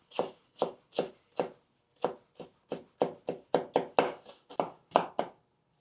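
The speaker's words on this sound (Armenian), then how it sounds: "հիմա մեզի անհրաժեշտ է կարմիրը կտրատենք" Red bell pepper is chopped with a knife on a cutting board for home-style stuffed eggplant, giving about fifteen crisp, close knocks in a steady, slightly uneven rhythm with short silent gaps between them.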